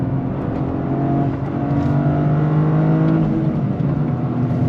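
A Toyota GR Corolla Circuit Edition with all-wheel drive and a 6-speed manual pulls hard on throttle, its engine droning loud and steady with a rising tone, close to the car and without talk.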